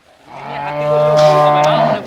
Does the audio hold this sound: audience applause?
no